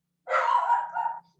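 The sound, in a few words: dog barking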